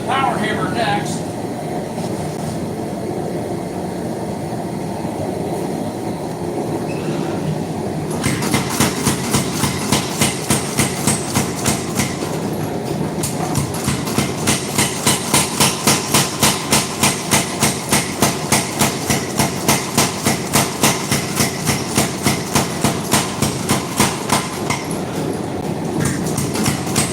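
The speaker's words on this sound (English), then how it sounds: "We're going to the power hammer next." Power hammer forging a railroad spike into a tomahawk blade: after a quieter stretch of workshop noise, a fast, steady run of heavy metallic blows starts up and continues loud and close, with a short pause midway.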